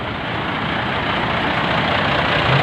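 A Singa Raja Putra Patas coach bus, non-toilet class, running its engine before departing from Kediri toward Jakarta: a loud, steady, close diesel drone with a continuous low rumble and no break.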